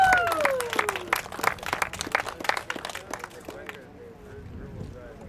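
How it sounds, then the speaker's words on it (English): Applause for Oleg, a class winner at a RealTA track day at NJMP Lightning, with scattered claps from a small crowd starting loud and thinning out, with a voice speaking over the start and light chatter after. "Big round of applause for Oleg."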